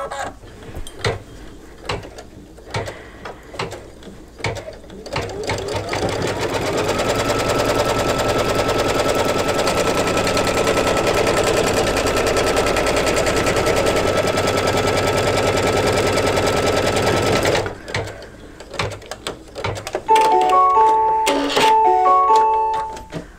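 An embroidery machine stitches an in-the-hoop mug rug, a loud rapid mechanical chatter of needle strokes that runs steadily for most of the stretch after some sparser stitching bursts, then stops and restarts near the end.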